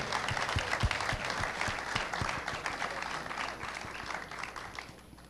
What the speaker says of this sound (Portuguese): Recebam com uma salva de palmas, por favor.